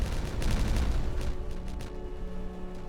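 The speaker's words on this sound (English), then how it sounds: "I do like a good explosion." Dynamite blasts in the Timberborn video game, a dense burst of booming, crackling detonations that rolls on for about three seconds, loud at first and then thinning into a rumbling tail.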